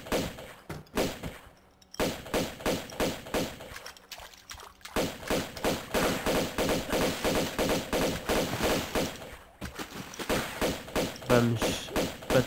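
Rapid repeated pistol shots ring out in Tomb Raider 2 Remastered, a loud rhythmic series of sharp bangs with brief pauses between bursts, set over game ambience with no talk.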